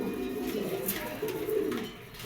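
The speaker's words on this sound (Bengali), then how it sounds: "পাইট একটা মাদি কবুতর" Fancy and racer pigeons at a farm coo softly, low repeated murmuring calls close by, with faint background noise and a brief voice.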